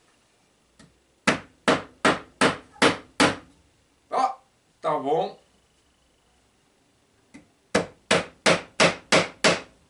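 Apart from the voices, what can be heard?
hammering nails into a wooden board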